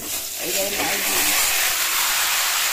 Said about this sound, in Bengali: কড়াইতে তেজপাতা জিরে দিয়ে দেবো একটু তেলেই।